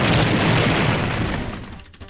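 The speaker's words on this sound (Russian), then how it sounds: "Взрывающиеся стены, зловещая музыка." Walls explode in a Sonic video game with a loud, dense rumbling blast that thins out and fades over a couple of seconds.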